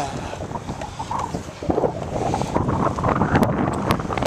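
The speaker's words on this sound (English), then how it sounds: "Yeah, windy." Wind buffets the microphone during a bicycle ride in March rain, a loud, rumbling roar that swells and gusts, strengthening after a brief lull, with no voices.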